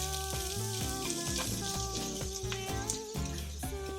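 Chopped shallot sizzles in about two tablespoons of olive oil with a constant frying hiss, partly covered by prominent background music.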